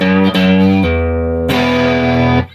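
Overdriven electric guitar played on the neck pickup through a Boss Blues Driver pedal: a short sequence of loud, warm, sustained chords, each changing sharply to the next, with no talking over them.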